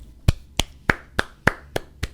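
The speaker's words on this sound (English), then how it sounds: "can I drop the mic and clap?" A single person claps hands seven times in an even, unhurried rhythm, each sharp clap close and distinct against a quiet background.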